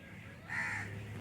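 A crow gives a single hoarse caw at a moderate distance over a quiet background hum.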